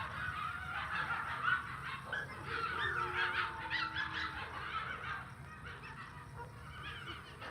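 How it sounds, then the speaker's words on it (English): A pack of coyotes yipping and howling in a chorus of overlapping, wavering cries, moderately distant and sustained throughout, with no talk over it. "They do sound like coyotes"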